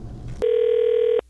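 A single steady ringback tone sounds on a call placed to a cell phone, holding clearly for under a second before cutting off into quiet line hiss.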